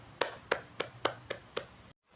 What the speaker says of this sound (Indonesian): Mari kita tepuk tangan untuk kedua teman kita.